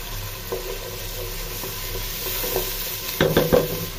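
Onions frying with ginger paste in a pan, a soft steady sizzle broken by a few light stirring clinks and a short burst of louder scraping near the end, no talking.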